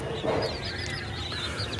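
Quail call on a quail farm: a few short, bright chirping calls come in quick succession over a low background hum, fairly close and clear.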